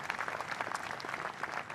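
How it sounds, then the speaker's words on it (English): Dense, steady crowd applause at an outdoor Australia Day morning ceremony, fairly faint and distant, with individual claps blurring together throughout. "Ladies and gentlemen, big round of applause again for our Governor, Margaret Beasley, New South Wales Governor"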